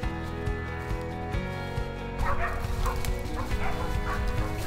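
A hunting dog bays and barks repeatedly out in thick bramble cover, the voice carrying at mid distance over a busy, steady background.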